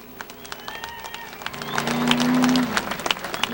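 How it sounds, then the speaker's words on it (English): Crowd clapping at Star Speedway for Tommy Houston, a dense patter of many hands that swells in the middle, with a brief low hum and some voices mixed in. "nice round of applause, Star Speedway style, for Tommy Houston"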